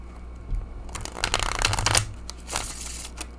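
Close, crisp riffle of linen-finish playing cards being shuffled, a couple of quick bursts of flicking card edges, no talking.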